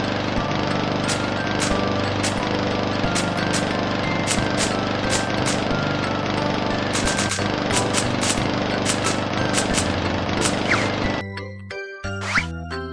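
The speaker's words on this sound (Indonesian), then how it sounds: "Ayo kita potong rumput." Lawn mower cutting weeds in the Baby Bus children's video game, a steady synthetic motor drone running continuously with light jingling chimes scattered over it, cutting out near the end.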